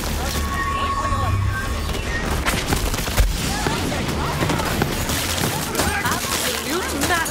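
Gunfire in the video game Borderlands 3, with dense, continuous shooting and impacts filling the whole stretch at steady high loudness, mixed with other game effects and a voice talking over the action.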